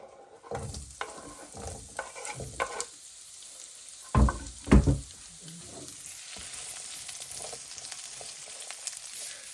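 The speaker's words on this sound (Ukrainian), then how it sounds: "поки воно жариться цибуля" Onion frying in a pan, a steady close sizzle broken by stirring and scraping, with a couple of louder knocks from utensils partway through.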